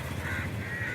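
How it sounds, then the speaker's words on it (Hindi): A crow caws through steady, noisy outdoor background hum. "अंदर से कौवा तो बोल रहा है"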